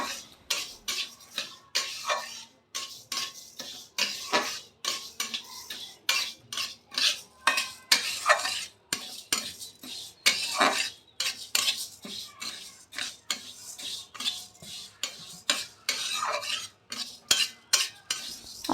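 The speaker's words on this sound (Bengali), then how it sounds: "কড়াইয়ে অল্প সর্ষের তেল দিয়ে মুগ ডালটা ভেজে নিচ্ছে" Mung dal frying in a little mustard oil in a wok, stirred with a metal spoon in quick scraping strokes. A close, rhythmic series of clinks and scrapes repeats steadily, with a faint sizzle underneath.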